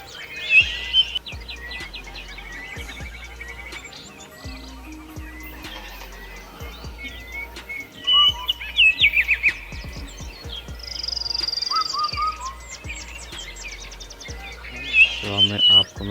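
Assorted birds in an aviary at a bird park in Chandigarh near Sukhna Lake, with scattered chirps, tweets and calls near and far, sometimes overlapping in short flurries, over a low background hum.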